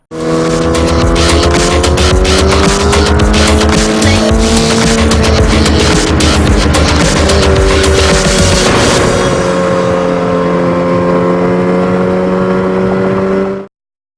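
A 2016 Husqvarna 701 Supermoto motorcycle being ridden, its single engine loud and close with a strong droning tone that holds steadily, pitch shifting as it revs, before cutting off abruptly near the end.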